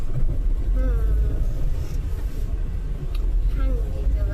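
Steady traffic rumble heard from inside a car stuck in a rush, low engine drone with passing vehicles and faint horn-like tones, while people talk in the cabin.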